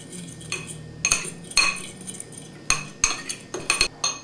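A utensil scrapes and clinks around a bowl while mixing powdered sugar and cocoa powder for chocolate truffles, in irregular close bursts of metallic taps between short pauses.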